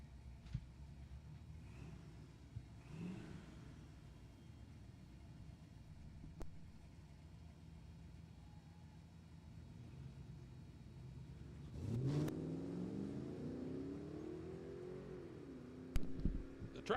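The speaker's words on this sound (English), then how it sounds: "The truck's away first, and Taylor can't hold on." Two drag racers, a truck and a white Chevy, launch at an NHRA Summit Jr. drag race, with distant engine rumble building into a loud revving surge and rising whine near the end, no talk.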